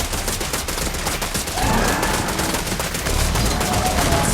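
Rapid automatic gunfire in the video game Zenless Zone Zero, a dense sustained stream of loud shots with heavier bursts joining midway, steady and continuous throughout.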